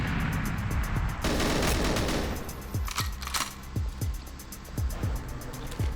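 Rapid gunfire in a GoldenEye multiplayer match, loud close bursts and repeated sharp shots in a steady rhythm, with a dense volley early on and single cracks spaced through the rest.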